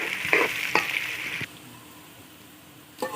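Sliced onions crackle and sizzle as they drop into hot oil in a pan for beef korma, a few loud bursts of frying followed by a quieter, steady hiss.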